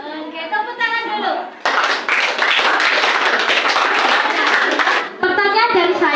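A classroom of children claps hands in a dense, rapid burst lasting several seconds, with children's voices talking before and after the clapping.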